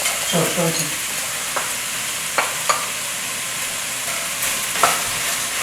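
Vegetables and green peas cooking in a pan for vegan paella, with a steady sizzle and frying hiss throughout and a few soft clicks as a utensil stirs them close by.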